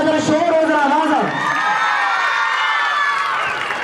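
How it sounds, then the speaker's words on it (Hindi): Audience at a parents' quiz event cheers and shouts loudly on cue, a dense crowd roar with high excited voices that holds steady for a few seconds. "जोरदार ताली हो जाए, जरा शोर हो, जरा आवाज हो"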